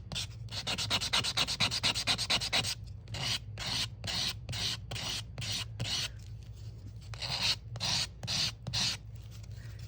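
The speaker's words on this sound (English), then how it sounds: "with a little bit of sandpaper here and there" Sandpaper rubbing over a grungy handmade journal to age it, rapid rhythmic scrubbing strokes close up, fast back-and-forth bursts at first, then slower separated passes, no voices.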